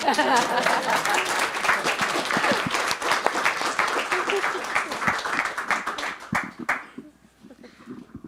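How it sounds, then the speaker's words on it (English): A crowd applauds with dense, steady clapping that thins out and fades away near the end. "good enough answer to merit another round of applause"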